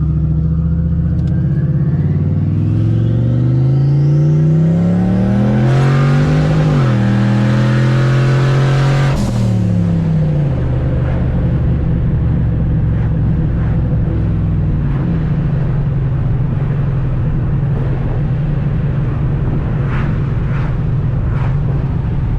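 A turbocharged SN95 Ford Mustang running E85 through a 76mm turbo accelerates hard in first gear, engine note climbing loudly and steadily before the revs drop off, then settles into a loud, rumbling idle.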